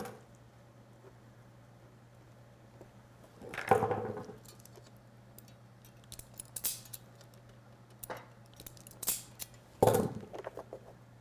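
Wire cutters snip robot wiring during swerve drive assembly, two sharp crisp cuts several seconds apart with lighter handling clicks and taps between, close and alone against a faint steady hum.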